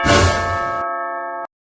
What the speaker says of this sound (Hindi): कितना घंटी बजाएगा?